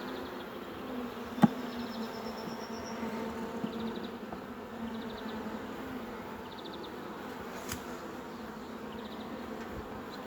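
Honeybees hum in a steady, dense buzz around an open beehive, close and continuous, with a couple of sharp clicks from the hive frames.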